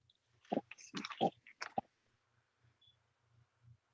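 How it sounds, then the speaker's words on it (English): Close, faint chewing and biting with a few moist crunching bursts heard over a call line, followed by a quieter stretch of soft low thumps. "I hear somebody chewing."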